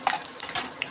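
Urad dal, fenugreek and dried red chillies frying on a low flame give a soft sizzle broken by a few quick scraping clicks of stirring in the pan, all within a very brief moment.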